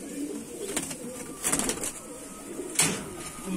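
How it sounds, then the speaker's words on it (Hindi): Rampuri pigeons coo softly in a few low, rolling calls, close by, against faint background noise. "देखिए रामपुरी कलसरा कबूतर है।"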